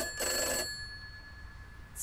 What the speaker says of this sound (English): It's just a phone.